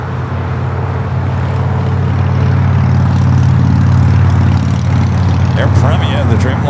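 An Air Premia Boeing 787 Dreamliner taxiing at LAX toward runway 24 left makes a loud, close, low engine drone that swells midway, with faint voices and a few higher clatters near the end.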